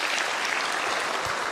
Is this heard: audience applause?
yes